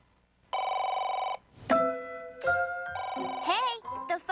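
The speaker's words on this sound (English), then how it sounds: "Hey, the phone's ringing." Cartoonish telephone ringing in bursts of bright electronic tones, the first ring long and steady, then choppier chiming rings follow, close and clear.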